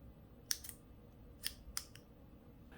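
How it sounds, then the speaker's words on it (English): Pen-shaped scissors, oval and about the size of a common pen, snip crisply and close up: one sharp cut, then a pause and a quick pair of cuts, with a faint trailing snip in a quiet room. "Look at how precise I can cut using these scissors."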